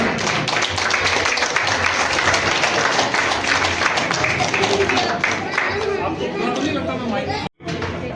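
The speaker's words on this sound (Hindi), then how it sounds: "तो जोरदार तालियां।" Loud audience applause at a national drama festival stage event, dense continuous clapping mixed with crowd chatter, running steadily for about seven seconds before cutting off abruptly near the end.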